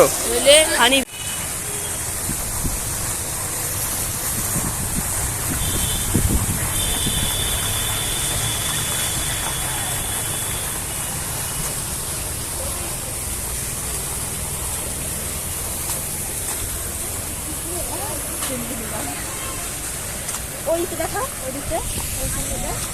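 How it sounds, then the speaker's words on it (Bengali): Fast water pours continuously at a fountain exhibit in the Digha Science Centre, a steady rushing roar close by, with a brief tone and faint voices in the background. "বাট জলটা কত স্পিডে পড়ছে দেখো তোমরা"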